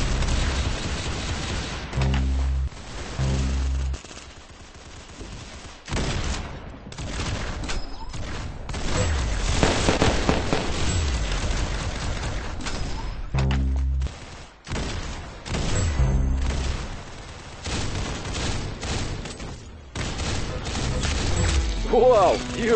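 Gunfire in an Arsenal shooting video game: dense, loud bursts of shots and crashing impacts run nearly throughout, overlapping with game audio and some voices.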